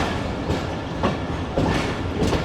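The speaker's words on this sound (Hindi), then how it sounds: "स्टॉप नहीं है ट्रेन का" A train runs through Attock City Junction without stopping, its wheels clacking loud and near at regular rail joints over a continuous rumble.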